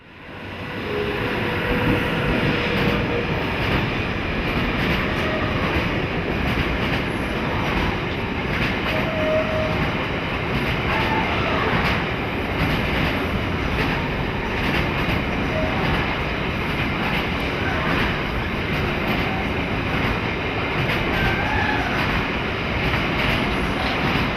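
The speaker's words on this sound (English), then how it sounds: "An MRCE Dispalock Class 189 electric heads north through the station on a container service bound for the Baltic Gate port." An MRCE Dispolok Class 189 electric locomotive hauling a container train rolls through a station, a loud, continuous rumble and rattle of wheels and wagons that builds quickly and holds steady throughout.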